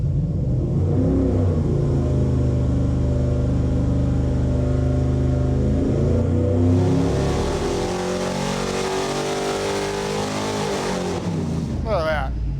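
A junkyard 5.3L Vortec V8 on a dyno climbs steadily in pitch through a long, loud rev under load from 3,000 to 6,000 rpm, then drops off abruptly at the end.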